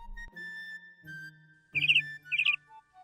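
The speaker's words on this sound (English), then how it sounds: "Then they heard the sound of a bird." A bluebird in an animated children's story chirps in two short, bright bursts of rapid twittering, sounding close over steady soft tonal background sounds.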